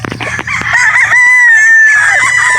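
A rooster crows loudly and close by in one long, drawn-out call, preceded by a few brief clucks and scuffles.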